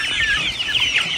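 Young chickens about 45 days old cluck and chirp on a poultry farm, a close, continuous chorus of overlapping calls with no talking.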